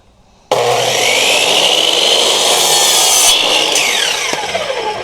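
A power saw bites into wood after a brief quiet start, cutting with a loud steady whine and rasp that eases slightly near the end.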